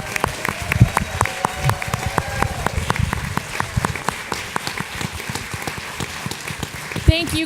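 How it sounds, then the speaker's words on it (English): Audience applause at a school safety panel event, with scattered individual claps sounding fairly close and steady throughout, a few voices faintly underneath. "can we get a round of applause for Jenny and Kelly for the hard work they put in this event"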